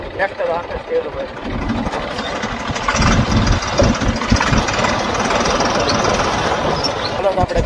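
A tractor engine running outdoors in a village, a steady close low chugging rumble that grows louder partway through and continues without pause.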